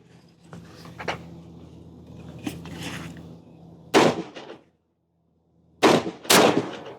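Rifle shots fired outdoors with factory ammunition over a Garmin Xero C1 Pro chronograph: two sharp, loud cracks separated by a silent gap, preceded by quieter handling noises.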